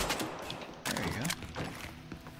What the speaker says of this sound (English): That was gunfire.